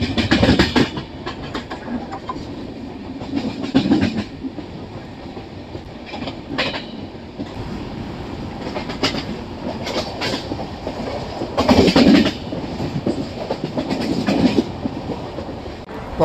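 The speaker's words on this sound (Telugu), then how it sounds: "మొత్తానికి మన ట్రైన్ అయితే మిర్యాలగూడ రైల్వే స్టేషన్కి అయితే వచ్చేసిందండి" The Janmabhoomi Superfast Express rolls along the tracks with a continuous rumble and repeated clickety-clack wheel beats at rail joints, heard steadily from on board, with a few louder bursts of rattling.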